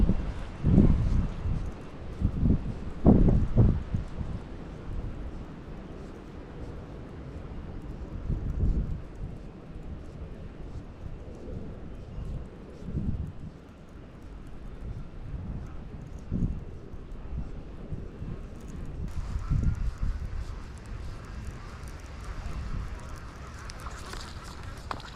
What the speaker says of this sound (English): It's really windy out right now all of a sudden.